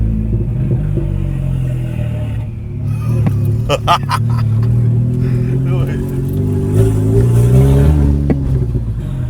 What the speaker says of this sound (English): Oh man, this car's too loud.